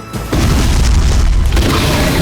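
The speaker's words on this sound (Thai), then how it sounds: "ผมก็จะปาระเบิดดักก่อนนะครับ" A loud, deep boom bursts out after a brief lead-in, followed by a sustained roaring rumble of debris and noise, a grenade explosion in the Roblox game Darkdivers.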